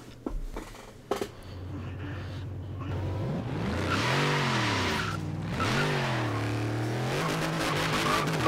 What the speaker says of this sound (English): I love the sound of the fucking turbo on this thing